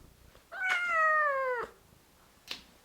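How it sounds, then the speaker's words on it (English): A cat lets out one long, drawn-out meow close by indoors, followed by a short faint sound after it, with no talking. "Keeps meowing when mummy's trying to film."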